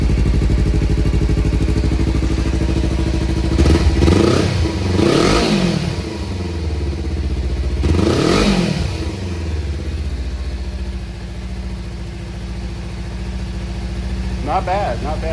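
A Kawasaki Versys X 300 motorcycle fitted with a spark-arrestor exhaust idles close by with a subdued drone, then revs up twice in rising and falling sweeps before settling back to idle.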